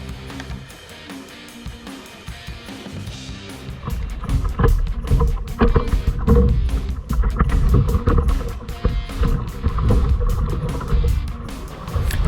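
Kayak paddling out through surf near a rock garden off the Mokulua islands: crashing water and churning waves rising loudly after a few seconds, with splashy rushes and wind buffeting close by.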